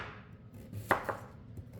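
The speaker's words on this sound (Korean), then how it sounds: "어쨌든 잘게 채 썰으면 좋아요." A kitchen knife cuts a large radish into fine julienne strips for water kimchi, giving two or three crisp, close blade taps on a cutting board over a quiet background.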